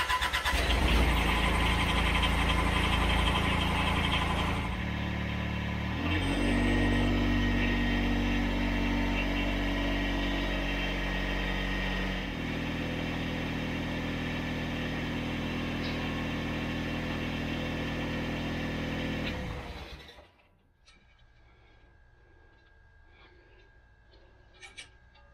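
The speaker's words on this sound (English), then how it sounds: "Start the tractor, check it for leaks." A Kubota BX1850 compact tractor engine cranks and catches, then settles into a steady, loud idle for about twenty seconds before shutting off, leaving near silence.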